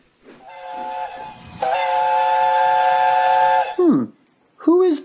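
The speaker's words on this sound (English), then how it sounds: "Who is that? I know that whistle. It's... The Flying Scotsman!" A steam locomotive whistle from the Flying Scotsman sounds loud and near, one short blast and then a long sustained tone with hissing steam, followed by brief vocal sounds.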